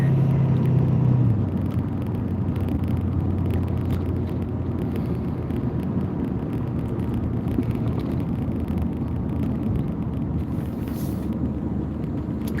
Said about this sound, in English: It's a truck, actually.